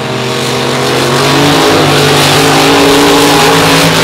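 A monster truck's 557 cubic inch engine revs hard at the start of a beach race, a loud, close, rising roar that swells and holds steady throughout.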